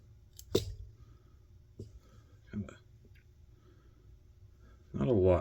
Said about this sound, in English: All I'm going to do is cut off a clump